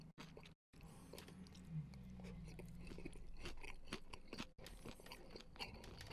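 Crunchy shrimp tempura roll being chewed close up, with repeated crisp bites and crunches over a steady low background hum and no speech.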